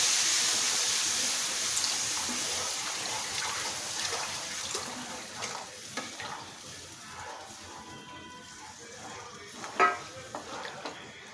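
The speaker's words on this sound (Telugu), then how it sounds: "రెండు చెంబుల క్వాంటిటీలో వాటర్ వేసుకుంటున్నానండి." Water pours into a pan of fried wheat rava and ragi flour for upma, a loud hissing splash at the start that gradually settles into softer bubbling, with a few sharp knocks near the end.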